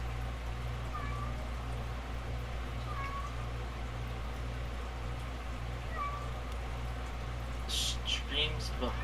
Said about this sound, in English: I hear her meowing, but I don't know where she is at this point.